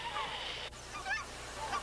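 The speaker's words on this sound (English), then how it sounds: "The refuge's greatest success was bringing back the endangered Aleutian Canada goose." An Aleutian Canada goose, a small relative of the common Canada goose, gives a few short honking calls over a steady low background hum.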